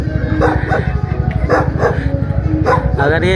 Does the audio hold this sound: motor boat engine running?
no